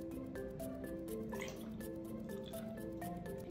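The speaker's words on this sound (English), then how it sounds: "we're gonna add vinegar until it's a little bit over the egg" Vinegar trickles and drips into a small cup holding a raw egg, a steady liquid pour with rising filling tones, close and fairly quiet, with no talking.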